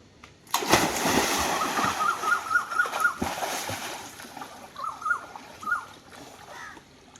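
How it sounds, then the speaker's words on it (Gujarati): Someone plunging into a hotel swimming pool in Goa, a sudden loud splash followed by continuous sloshing and churning water close by, with faint voices in the background. "તો ચાલો મિત્રો, આપણે હવે જઈએ સ્વિમિંગ પુલમાં નાહવા."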